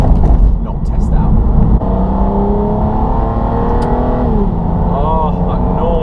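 A 2005 Aston Martin DB9 V12 revs up and settles back, a loud close engine note climbing in pitch and easing off, with a brief voice near the start.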